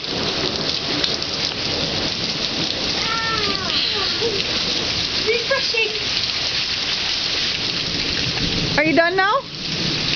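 Shower water running steadily as a broad hiss throughout, with people talking over it near the end.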